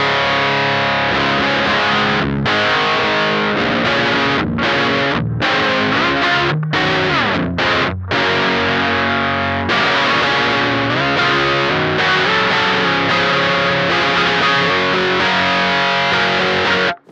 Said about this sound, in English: if we turn the main gain down, we're getting a pretty nice, like, overdriven sound.